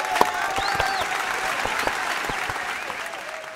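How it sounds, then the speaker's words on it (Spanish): A studio audience at a vallenato music show applauds a guitarist in a dense, steady burst of clapping, with a few whistles and cheers mixed in, fading slightly toward the end. "Un aplauso para Rafa."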